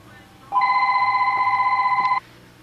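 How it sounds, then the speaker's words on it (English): A telephone rings once with a loud, steady electronic trill lasting under two seconds, close and clear, with quiet room sound before and after. "I'm going to answer the phone."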